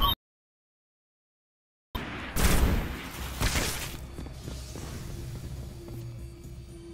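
Gunfire from a co-op Destiny firefight, short dropout of silence then bursts of shots and booms around the two-to-four-second mark, followed by lower rumbling battle noise and a faint tone.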